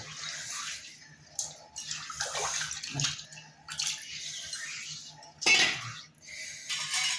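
Water splashes and trickles over a new stone grinder being seasoned in uneven bursts, with occasional clinks of metal against stone.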